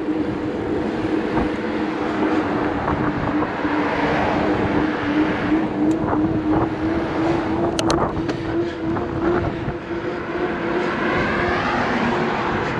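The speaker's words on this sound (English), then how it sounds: "we're in traffic here" A steady roar of road traffic surrounds a cyclist riding along a street, with a continuous engine drone, passing vehicles and some wind noise, loud and unbroken throughout.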